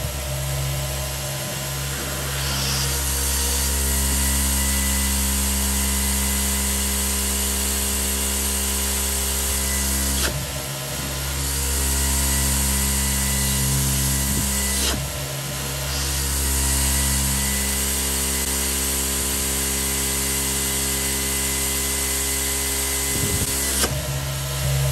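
A Dyson V15 Detect cordless vacuum running on boost mode produces a loud, steady high-pitched motor whine with strong tonal bands, interrupted by brief dips and surges as it is moved or adjusted.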